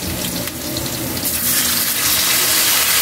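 Pork hitting hot oil in a pan for a Filipino pork estofado, a loud, steady hiss and sizzle that holds and swells slightly over a few seconds, with no voices.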